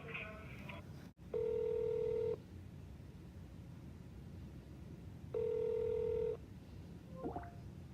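Two sustained multi-tone telephone signals, each about a second long, sound over a faint line hiss as a call to a superintendent's office is put through, with a brief click between them.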